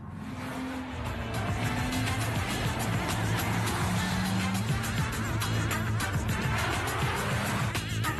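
A BMW Z4 roadster's engine drones steadily as it drives along, a constant close roar with road and wind noise and no talking.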